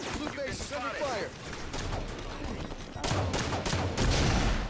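Gunfire at the blue base in a Halo 5 capture-the-flag match: a player talks over dense, continuous shooting that grows louder and burstier toward the end.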